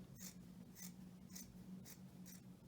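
Scissors cut fabric along the outside of a seam for a face mask, five crisp snipping strokes at an even pace, close and fairly quiet over a low hum.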